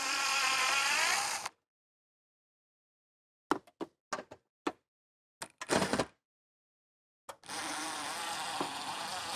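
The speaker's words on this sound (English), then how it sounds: "Then remove the remaining screws from the mount arm." Screws come out of an awning mount arm one after another, a series of short close ratcheting clicks and knocks from a driver with silent gaps between them, set between stretches of louder background noise.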